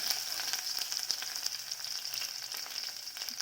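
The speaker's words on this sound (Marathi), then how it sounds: "मोहरी छानशी तडतडले" Continuous hissing sizzle of mustard seeds in hot oil with rapid, dense popping and spitting, close and steady throughout.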